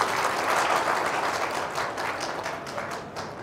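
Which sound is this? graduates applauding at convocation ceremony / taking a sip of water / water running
graduates applauding at convocation ceremony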